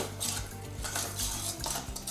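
A utensil mixing rice vinegar and fish sauce dressing in a bowl, rapid rhythmic clinking and scraping strokes against the bowl, close up and steady, no talk.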